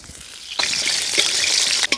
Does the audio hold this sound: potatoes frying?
yes